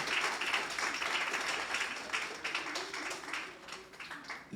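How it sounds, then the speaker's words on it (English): Crowd at a launch event clapping for a panel guest, a dense, sustained wash of applause from many hands that stays loud throughout and eases slightly near the end. "a big round of applause for Linda"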